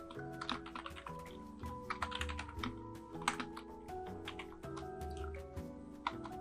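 Computer keyboard typing during Java programming, a quick, irregular run of light key clicks that continues throughout over soft tonal background music, with no talking.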